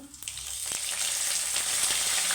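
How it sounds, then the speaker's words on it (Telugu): Dried red chillies and curry leaves splutter in hot oil as a tempering for semiya upma, a sharp burst at first that settles into a steady, bright sizzle with scattered pops, close and uninterrupted. "తాలింపు బాగా వేగాలండి"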